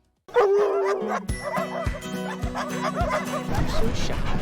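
Dogs bark and yip at the newly opened Lawndale Dog Park in Houston's East End, a series of sharp close barks and whimpers repeating over a busy outdoor background with music-like tones.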